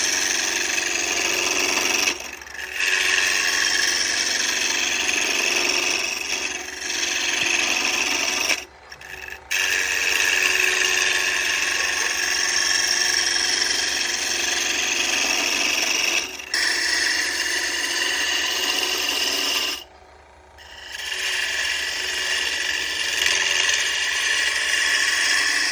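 A wood lathe spins at about 1400 rpm while a tool cuts a walnut bottle-opener handle, making a loud, continuous scraping and rasping drone that drops away briefly a few times as the cutting pauses.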